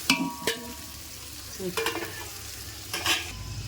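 Whole spices, fennel, cardamom and star anise, hit very hot oil for a biryani, giving a faint sizzle with a few sharp crackles and stirring clinks, no talk.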